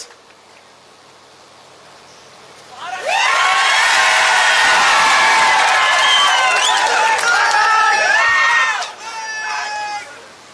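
A large crowd at a political rally for Udayanraje Bhosale and Pankaja Munde breaks into a loud roar of cheering, whistles and clapping that lasts several seconds before tapering off.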